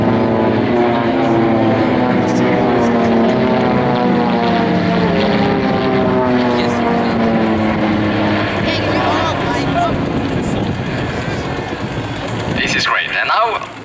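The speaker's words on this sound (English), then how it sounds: "the 5 single loops of the Swiss Air Force PC7 Team" Swiss Air Force PC-7 Team propeller aircraft fly loops at an airshow, their loud engine drone rising and falling in pitch as the planes sweep past, with a brief burst of crowd or wind noise near the end.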